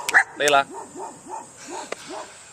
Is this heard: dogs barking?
yes